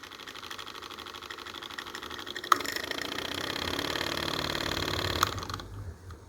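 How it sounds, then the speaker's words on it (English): A desktop live steam traction engine, a Mercer model, runs steadily with fast, even valve chuffs forming a continuous mechanical patter, close and moderately loud, with two sharp clicks partway through before it quiets near the end. "I can hear that valve sounds really even on each of the chuffs, the forward and the backward"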